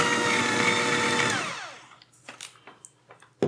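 An electric mixer creaming butter and sugar for gluten-free blackberry streusel muffins: a loud, steady whirring motor that winds down to a stop, followed by a few soft clicks and taps.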